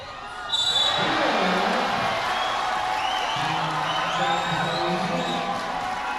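Loud crowd noise swells and holds at a community basketball game in the Ako Bicol Cup, Ligao versus Libon, a sustained roar of cheering with whoops running beneath commentators' voices.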